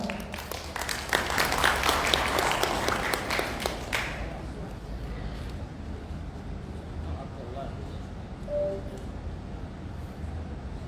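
Audience at a coating technology conference claps for a newly introduced speaker, a fairly dense burst for about four seconds that fades into quiet room noise.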